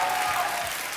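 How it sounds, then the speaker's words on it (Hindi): Studio audience applause on a Hindi comedy talk show as guests are welcomed, a dense, bright patter of clapping filling the whole short moment. "आप सबकी जोरदार तालियों के बीच बुलाना चाहूंगा"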